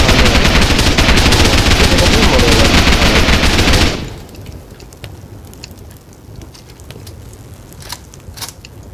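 Rapid, loud bursts of explosive-round gunfire from the game Rust rattle continuously for about four seconds, then cut off, leaving faint scattered crackles and distant pops.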